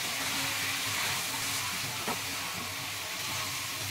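Mung dal is stirred and fried in beef fat, giving a soft, continuous sizzle with a faint scrape of stirring. It is steady and fairly quiet throughout, with no talk.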